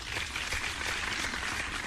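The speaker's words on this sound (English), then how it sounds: "You wanted a real round of applause." A round of applause from an audience, a steady, dense wash of clapping that holds at an even level throughout, with no voices on top.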